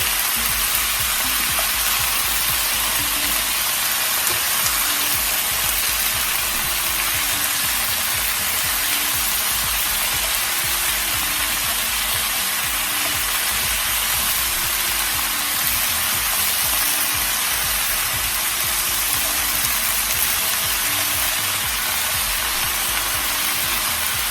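Vegetables fry in a pan that can also go into the oven, producing a loud, constant, hissing sizzle that holds steady throughout with no speech.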